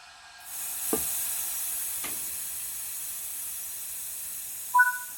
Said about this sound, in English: Apply the train brake now and release the loco brake again.